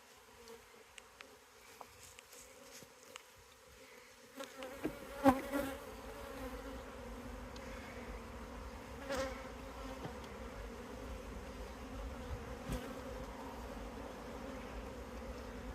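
Honey bees swarm in an open beehive: a soft, steady buzzing swells suddenly after a few quiet seconds into a dense, close hum of many insects, with no talk.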